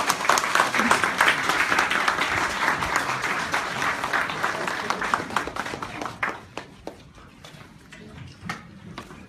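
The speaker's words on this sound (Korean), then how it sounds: "박수로 맞아주시기 바랍니다." A crowd at a Korean political rally applauds in welcome of a speaker, dense clapping that thins into scattered individual claps as it dies down.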